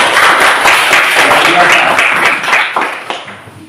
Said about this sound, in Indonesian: tepuk tangan kepada teman-teman